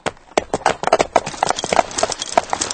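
Horse hooves clip-clop in a brisk, uneven rhythm, close and fairly loud, with no voices over the steady stepping of riders travelling along.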